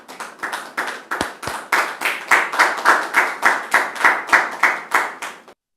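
A TV talk-show studio audience claps in a steady burst of applause, loud and close, welcoming a guest, then stops abruptly after a few seconds.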